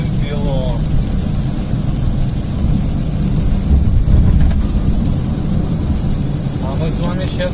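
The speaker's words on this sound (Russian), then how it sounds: "Смотрите, какой у нас дождь." Heavy rain pours steadily while driving through the Brest region, a dense roar of water and road noise from inside a moving car, with a voice talking over it.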